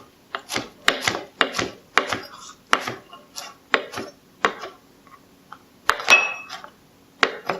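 Knife chopping fresh herbs and vegetables for pasta primavera on a cutting board, a run of crisp, close taps in an uneven rhythm with short pauses between strokes.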